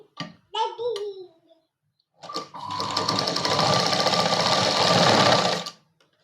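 A sewing machine stitches a fabric hair bow in a fast, steady whirring burst of about three seconds, heard after a few seconds of someone talking.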